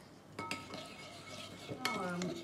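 Miso sauce stirred in a bowl with a utensil, a few close clinks and scraping taps against the sides with quiet pauses between.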